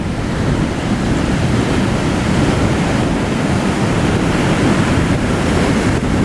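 Storm surf from Typhoon Auring rolls onto a Siargao reef shore in a steady, loud roar, with broad wash and wind rumble running the whole time and no voices.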